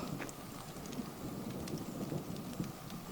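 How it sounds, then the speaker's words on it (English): First spots of rain falling outdoors near a camp as a thunderstorm builds, a soft steady patter of drops with scattered sharper taps over a low ambient rumble, continuous and moderately faint. "So first spots of rain now."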